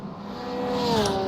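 Prototype LMP2 and GTP race cars close in during an iRacing endurance race at Watkins Glen, engine drone swelling steadily with a rising whine as they approach, no voices.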